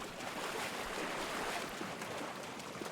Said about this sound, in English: the waves bouncing between walls and the sounds of dripping water